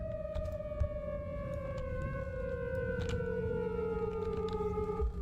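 A long, wailing tornado siren drones steadily at a distance, its tone slowly sliding downward over a low rumble of background noise.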